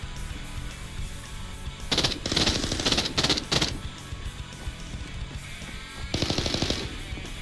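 Rapid bursts of automatic gunfire in Arena Breakout: Infinite, a long volley followed by a shorter one, with steady game ambience underneath.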